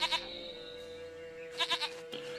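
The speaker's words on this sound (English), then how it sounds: "Goat of mine, dearest, sweetest goat." In The Witcher 3, a goat bleats in short quavering bursts, once at the start and again a little later, fairly close, over a quiet, steady game soundtrack.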